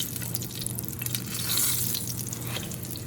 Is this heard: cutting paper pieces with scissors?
no